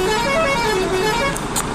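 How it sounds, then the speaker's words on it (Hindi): Truck horn honking in a truck-driving video game, a loud sustained multi-tone blare over engine rumble for under two seconds, with a couple of brief higher bursts near the end and no talking. "हॉर्न बजाते हुए निकाल लेके जाएंगे"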